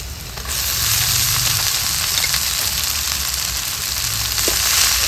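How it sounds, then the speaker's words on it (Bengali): Leafy greens hit hot oil with garlic, a loud sizzle that surges in after a quiet moment and holds steady, with a faint stirring knock near the end. "দিয়ে শাকটাকেও ভালোভাবে ভাজবো।"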